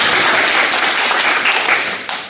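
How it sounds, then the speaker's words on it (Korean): An audience claps together during a talk on work and happiness, a brief dense burst of handclaps that holds steady and then tapers off near the end. "박수 한번 쳐주셔야죠."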